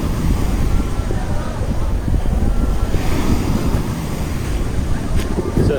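Surf rolls onto the beach at Puerto Vallarta, Mexico, heard as a continuous loud wash with heavy wind buffeting the microphone throughout.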